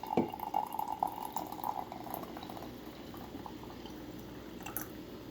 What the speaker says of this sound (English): I'll just pour it in to my mug